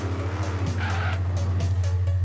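Ford Deluxe Coupe drag car in Forza Horizon 3 launching hard, its engine droning steadily loud with rising gear pitch and a touch of tire squeal, alone and close.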